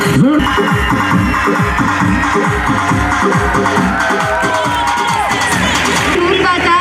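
Crowd cheering and clapping at a school annual function for young children, a loud, continuous mix of shouts, whoops and rhythmic claps with voices calling over it.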